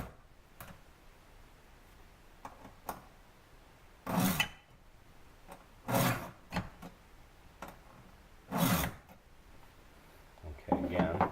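A hand file sharpening a chainsaw chain makes a few short, distinct rasping strokes separated by pauses, close and fairly quiet, with light clicks and handling noise in between.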